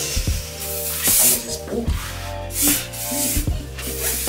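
A spray bottle gives several short hissing bursts at close range, between rubbing and handling noises, and someone briefly speaks.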